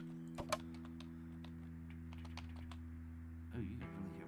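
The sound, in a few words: typing on a computer keyboard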